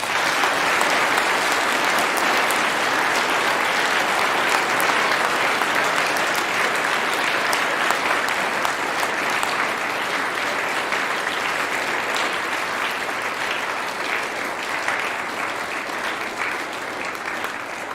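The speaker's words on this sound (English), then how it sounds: "If you'd like to give our musicians and readers a final round of applause." Loud, sustained applause from an audience at a commemoration service, a dense even roar of many hands clapping that runs unbroken and tapers only slightly toward the end.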